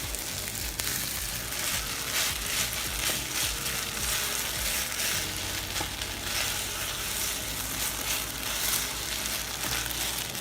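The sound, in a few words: stirring kimchi fried rice with ketchup in a pan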